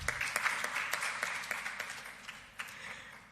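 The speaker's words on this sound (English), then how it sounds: "And for that, we can give a round of applause." Applause from a press conference audience, a steady wash of many hands clapping at moderate level, with a few sharper individual claps standing out and the sound thinning slightly toward the end.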